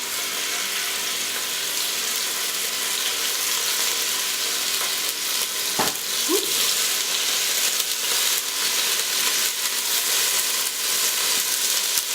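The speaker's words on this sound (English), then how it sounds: "You can kind of carefully just put the beef down, and you should hear that sizzle." Ground beef searing in hot oil for a paleo pumpkin chili, a steady hiss of frying throughout with a brief clatter as the meat goes into the pan, no talking.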